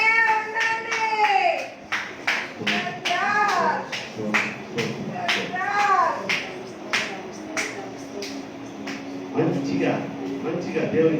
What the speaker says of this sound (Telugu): గట్టిగా చప్పట్లు కొట్టి దేవుని భయపడుతున్నాం